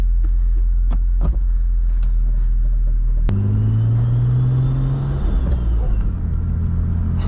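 A turbocharged BMW E36 M3 engine idles with a low, steady rumble, then a sharp blip sends it into a rising rev that holds briefly before settling, heard up close.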